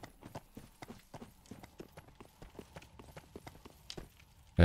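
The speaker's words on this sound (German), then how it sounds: "Ja, Pferde sind wieder hinter mir her." Horse hooves clip-clop in the video game Dark Souls 3, a steady rapid run of hoof strikes at moderate distance, fairly quiet and without talk, ending with a sudden loud burst.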